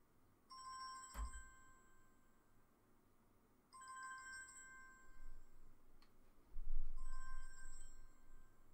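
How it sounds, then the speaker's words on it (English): A phone ringtone plays inside a Thermaltake Suppressor F31 PC case, a muffled electronic ring in three short repeating bursts separated by pauses, faint over a low background hum. "is the ringtone on my phone to show the kind of noise it produces now"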